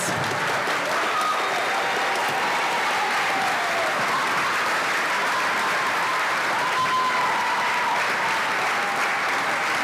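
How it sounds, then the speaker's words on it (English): Concert audience at a spring orchestra concert giving a round of applause for graduating seniors, a loud, dense, sustained clapping wash filling the hall, with faint whistles or cheers poking through near the end. "One more round of applause for these great seniors."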